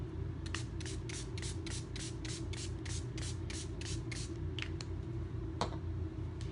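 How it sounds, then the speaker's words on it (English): A spray bottle misting a chalkboard gives a run of about a dozen quick, evenly spaced hissing squirts, then a few scattered ones, faint over a low steady background hum. "So I'm just gonna give this another quick spray."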